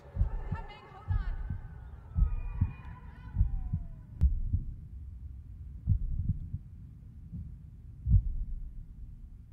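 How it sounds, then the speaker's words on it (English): A slow, steady heartbeat from a TV show plays as low, regular thumps about a second apart, with faint electronic tones over the first few seconds. "his heartbeat stopped"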